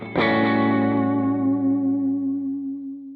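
A rockabilly electric guitar strikes a single bright, effects-laden note or chord that rings out with echo and slowly fades, played alone.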